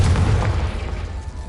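A Confringo explosion spell bursts in the Hogwarts Legacy video game, a loud low boom that opens at full force and rumbles on for over a second without fading much.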